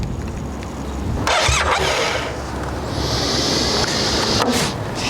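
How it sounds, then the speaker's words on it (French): A BMW R 1250 GS Adventure with a faulty throttle grip is restarted nearby: a sharp cranking burst, then the engine catches into a steady, loud running roar, with no talk. "on va redémarrer le moteur pour voir si on aurait éventuellement retrouvé la fonction de la"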